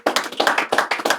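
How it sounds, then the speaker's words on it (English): Close, rhythmic hand clapping at the African Heritage House welcoming a historian and writer to a conversation event; about ten crisp claps in an even, brisk pattern, loud and near with no talk over them. "clap for him."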